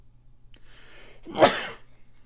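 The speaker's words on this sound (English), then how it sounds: "I might have to sneeze soon, so I warn you now." A single sharp sneeze bursts out after a quick breathy intake, loud and close, with faint hum underneath.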